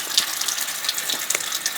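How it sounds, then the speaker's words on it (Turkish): Water runs steadily from a village stone fountain, a continuous close splashing trickle with no voices over it. "Burada da amcamız bir çeşme yaptırmış."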